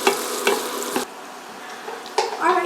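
Vegetables sizzling in a pot for chicken pot pie, a steady bright frying hiss broken by a few scraping stirs of a spoon, close and fairly loud, then a brief quieter stretch before the stirring resumes.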